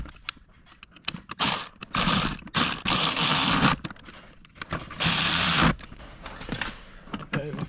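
Bolts on a Superior Engineering handbrake upgrade kit being tightened: close, bursty ratcheting and scraping, with several longer rasping runs between short clicks and pauses.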